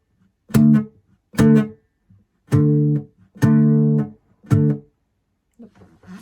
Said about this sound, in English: Doing this also emphasizes the accented strums as well.